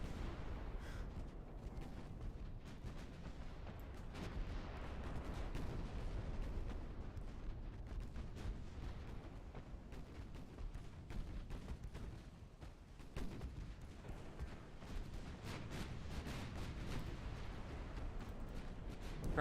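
Battleship artillery fire in a naval war game's USA campaign, a dense low rumble of booming salvos and explosions rolling on continuously, muffled and fairly quiet, with no voices.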